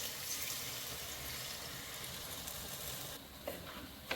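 Water poured into a pan of sizzling crab sukka, giving a steady broadband hiss of frying and bubbling liquid that runs throughout at moderate closeness, with a brief change in texture near the end.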